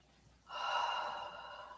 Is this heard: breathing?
yes